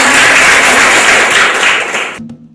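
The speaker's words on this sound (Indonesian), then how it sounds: "tepuk tangan" Students clap together in a religious-school classroom, a dense burst of applause close by that fades out near the end.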